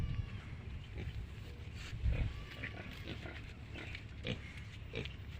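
Pigs on a low-cost pig farm in Assam with an unpaved, earthen layout grunt and snuffle steadily and fairly close by. A few louder grunts stand out over a constant background of farm noise.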